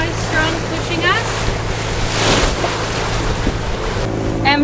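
A cruising boat motors through steep, closely spaced waves and current, with water rushing and slapping steadily against the hull over engine hum and wind, and a few brief whistling tones.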